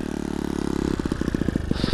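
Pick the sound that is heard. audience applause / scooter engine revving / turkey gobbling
scooter engine revving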